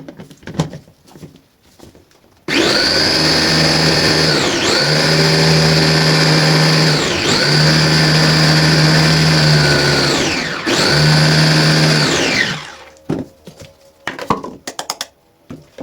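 A kitchen blender whirs loudly and steadily grinding garlic, pausing briefly twice before running on, then cuts off, leaving faint clattering.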